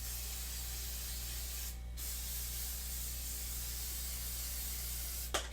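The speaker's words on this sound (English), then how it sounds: "And then we're going to do one last round of hairspray." Hairspray hisses from a can in one long, steady burst over curled hair, close and loud, with a brief pause and a short final puff.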